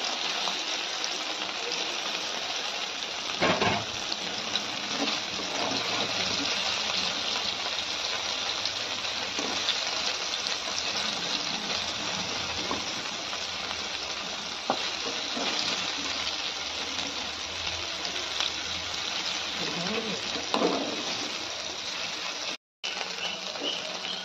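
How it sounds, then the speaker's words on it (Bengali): Taro and potatoes frying in oil until reddened make a loud, continuous close-up sizzle like heavy rain, with scattered crackles and stirring scrapes throughout. "এবার এই তেলে আরবি আর আলুটা ভেজে নিই"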